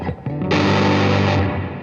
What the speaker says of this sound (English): I'm using a pedal for this, but you can definitely make this using a fuzz and a reverb pedal.